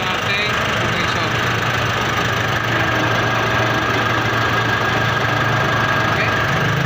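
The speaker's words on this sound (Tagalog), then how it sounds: "On natin ang kaniyang AC. Ayan. Ayan. Umikot na natin compressor." A Nissan NV350 van's air conditioning compressor runs steadily with the engine idling nearby, a continuous loud mechanical hum and rattle with a low droning tone throughout.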